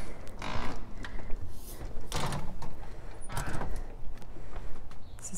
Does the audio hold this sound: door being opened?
yes